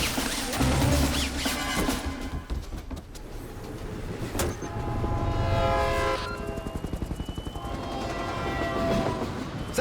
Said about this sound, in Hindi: ट्रेन टनल के अंदर एंटर हो चुकी है।